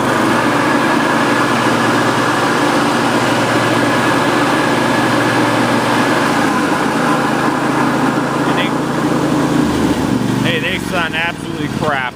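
An MTD lawn tractor engine runs hard at high revs with the mower deck blade engaged, giving a loud, continuous droning roar that stays steady throughout, with brief squeaky chirps near the end.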